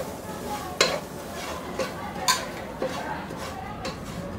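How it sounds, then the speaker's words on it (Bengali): A spoon scrapes and stirs semolina frying with spices in a pan, giving a few sharp metallic knocks against the pan's side over a soft low sizzle. "এর মধ্যে আমি 1 কাপ সুজি দিয়ে একটু ভেজে নিব।"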